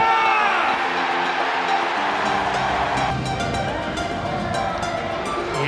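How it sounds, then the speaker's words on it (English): Football stadium crowd roaring and cheering after a goal, a broad, loud, sustained wash of voices that swells and stays high throughout. "The crowd find their voice."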